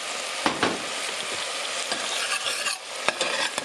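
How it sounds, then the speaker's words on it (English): Half an onion sizzles in hot coconut oil in a pan, a dense continuous hiss broken by occasional scraping stirs, close and loud with no talking. "Frying half an onion."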